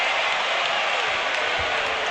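A basketball arena crowd roars in a sustained, loud wash of cheering and noise for Dwyane Wade, steady throughout with no clear individual voices.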